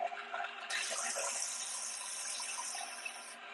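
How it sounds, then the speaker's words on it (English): Water from a tap running steadily into a peanut butter mixture in a home kitchen, a continuous hissing pour that fills most of the stretch before cutting off. "then I add a little bit of water so it all sticks together"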